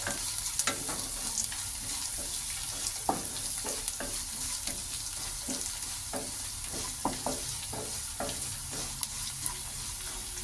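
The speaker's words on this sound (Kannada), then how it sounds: "ಚೆನ್ನಾಗಿ ಫ್ರೈ ಆಗ್ತಾ ಇದೆ ಒಂದು ನಿಮಿಷ ಇದು ಫ್ರೈ ಆಗಲಿ" Poha, flattened rice, fries in a pan with a steady sizzle while a spoon stirs and scrapes in irregular clacks, close and alone without any talk.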